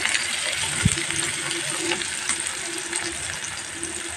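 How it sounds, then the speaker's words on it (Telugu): Chopped onions go into hot oil for mutton paya and fry with a broad, hissing sizzle. A single dull knock comes near the start, and the sizzle then holds steady and close. "ఆయిల్ వేడైన తర్వాత ఇప్పుడు ఉల్లిపాయలు కట్ చేసుకున్న ఉల్లిపాయలు వేస్తున్నాను"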